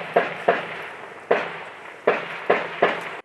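Artillery shelling and gunfire at frontline positions in Donbas, heard as six sharp, loud blasts at irregular intervals, each followed by a short rumbling decay.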